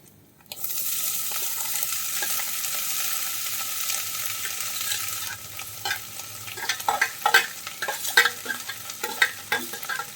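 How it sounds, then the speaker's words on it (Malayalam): Sliced ivy gourd drops into hot oil with mustard seeds and dried chillies for a Kerala thoran, setting off a loud steady sizzle that settles into crackling, spattering frying with occasional sharp pops. "ഇനി നമ്മൾ അരിഞ്ഞു വെച്ചിട്ടുള്ള കോവയ്ക്ക നമുക്കതിലേക്ക് ഇട്ട് കൊടുക്കാം."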